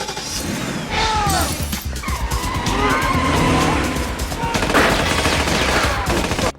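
A remote-controlled car tears around with skidding tires and loud engine roar, mixed with bursts of gunfire and chaotic crashing in a dense, continuous action scene.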